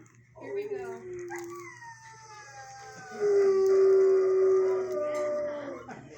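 Bruce, an eight-year-old shelter dog in a kennel, howls in long, wavering rising-and-falling tones, a first drawn-out howl followed by a louder, sustained one, close to the microphone.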